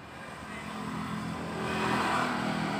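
Honda Supra X 125 fuel-injected motorcycle with a flashing fault light and hard starting, its engine rising in a rough, sputtering rev that swells and holds over a few seconds, fairly steady and close.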